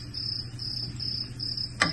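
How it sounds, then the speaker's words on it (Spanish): Crickets chirp in a fast, steady high-pitched trill near an outdoor cooking spot, repeating in even pulses over a low background hum, ending with a brief sharp knock. "Oigan, ¿por qué llegarán tantos grillos aquí?"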